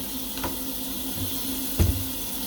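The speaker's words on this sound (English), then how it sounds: "And this is really hot water that I'm running right now" Hot water runs from a tap while a bleached lace wig is washed, giving a steady hiss and trickle with a couple of brief splashy knocks, close and moderately loud.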